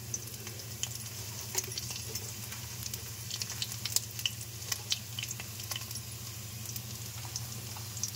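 Mustard seeds, fenugreek, cumin and garlic fry in a pan with a steady sizzle dotted by small pops and crackles, close and continuous under a low background hum.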